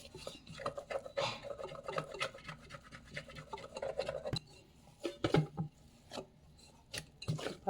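Sticky parotta dough being rubbed and scraped off the sides of an oiled mixing bowl by hand, a series of close, dry rasping strokes in short bursts with pauses between them, no voices.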